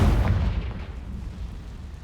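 A Confringo spell explosion in Hogwarts Legacy, a heavy low boom that hits at once and rumbles away over two seconds, with no talk.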